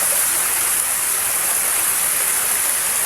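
Steady rushing of a river stream flowing close by, a dense, unbroken wash of water noise filling the whole stretch with no voices.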